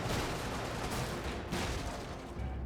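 Gunfire from the video game Brigador crackles as dense, continuous bursts of rapid shots, fairly quiet with no talking over it.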